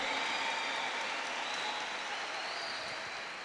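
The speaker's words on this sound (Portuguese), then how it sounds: "Você aplaudiu." Steady audience applause fills the space, a dense wash of many hands clapping continuously at moderate level, tapering slightly toward the end with no voices above it.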